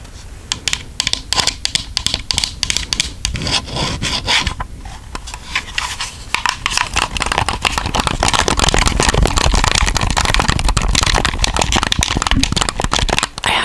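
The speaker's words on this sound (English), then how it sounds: "Oh, I forgot to do my nails on the microphone. This is my controller." Rapid plastic clicking and tapping of buttons, dense and close-miked, with scratchy rubbing noises throughout and no talking.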